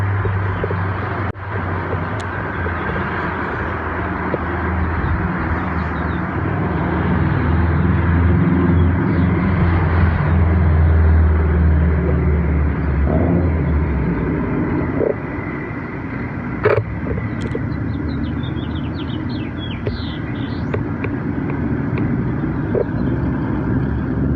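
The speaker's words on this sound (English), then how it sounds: "Sorry if you can't hear me, traffic's a little loud." Loud downtown street traffic in Colorado Springs, a dense continuous roar of engines with a heavy vehicle rumbling close by, easing off later, plus faint bird chirps and distant clatter.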